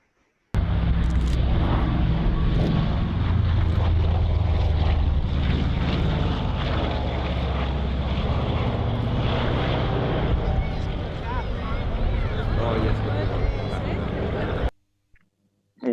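Engines of a Lockheed Constellation propeller airliner run loud and close at an airshow, a dense, continuous droning roar with wind buffeting that holds steady for about fourteen seconds before cutting off abruptly.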